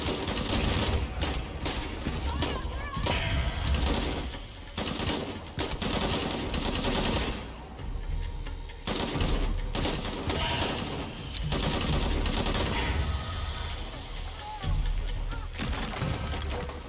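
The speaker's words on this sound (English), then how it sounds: "this pistol sucks" Gunfire rattles from a pistol in Shadow of the Tomb Raider. The bursts are dense and repeated and sit over loud, continuous game music and effects, with brief lulls between volleys.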